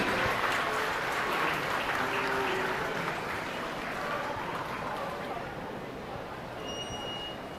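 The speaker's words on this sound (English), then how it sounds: "Let's have a round of applause for our Class 2 exhibitors" A crowd claps steadily at a steer show in a large indoor arena, a dense wash of applause that fades slowly toward the end.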